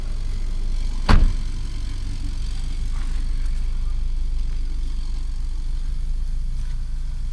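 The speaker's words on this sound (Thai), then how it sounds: "เครื่องเงียบ ๆเครื่องยนต์ดีไม่มีไอ" An old manual-gearbox sedan idles quietly with a low, steady rumble, broken once early by a single dull thump.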